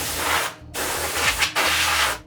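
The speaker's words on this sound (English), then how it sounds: "spray these down with some air, make sure there's no dust on these guys" Three long hissing blasts of compressed air sprayed close up onto wood, each cut by a short pause, with a faint rubbing sound underneath.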